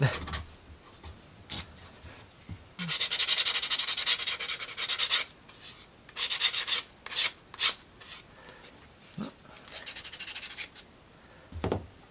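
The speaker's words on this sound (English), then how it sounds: "Sandpaper, they're emery board." Wood rubbed with an emery board while building a miniature cabin book nook: close, dry scraping strokes in bursts, some long and steady, others short and quick, with quiet pauses between them.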